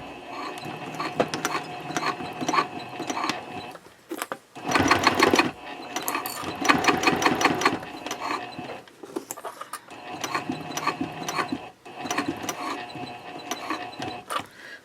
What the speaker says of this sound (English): I will be stitching 1/8 of an inch away from all of my edges